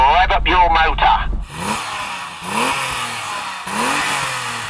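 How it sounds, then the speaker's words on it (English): BMW M5 engine revving in short repeated bursts, each rising pitch climbing and dropping back, loud and close, preceded by a brief higher-pitched rev at the start. "Tony, rev up your motor"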